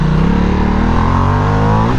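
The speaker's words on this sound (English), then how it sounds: "That Ducati waking up the beast." A Ducati motorcycle engine revs loudly and close, its rough throaty roar climbing steadily in pitch over two seconds.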